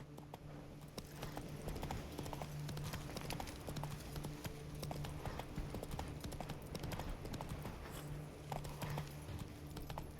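Hooves clip-clop in a steady rapid rhythm as the horse Roach gallops in the video game The Witcher III, quite faint but continuous throughout, with a low rumbling drone underneath.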